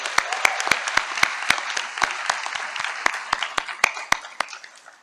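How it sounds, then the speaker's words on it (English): An audience at a university convocation applauds the Lincoln University Choir, steady crowd clapping with a few sharp, loud nearby claps standing out, sustained throughout. "Please give them another round of applause."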